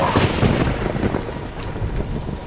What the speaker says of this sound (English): A magic explosion of some sort.